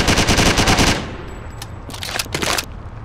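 Rapid automatic gunfire from the Driv3r video game rattles loudly in a dense burst, then gives way to scattered, more distant shots and clattering impacts.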